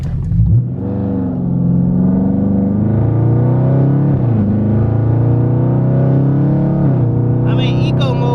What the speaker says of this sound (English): I'm about to do a pull from a dead stop for y'all.